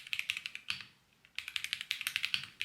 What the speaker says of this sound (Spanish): Si buscabas un teclado mecánico, pero así modernillo, a mí este me encanta.